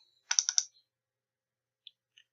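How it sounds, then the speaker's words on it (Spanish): Three quick computer keyboard key presses for a Ctrl+C copy command, crisp and close, followed by a couple of faint isolated clicks after a pause. "vamos a oprimir con el teclado la letra Control C"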